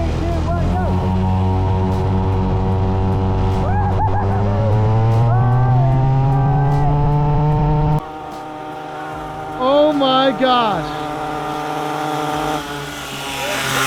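An upgraded budget dirt bike engine fed nitrous revs loudly and rises in pitch, then drops and rasps with popping and crackling from the exhaust. Excited voices shout over it.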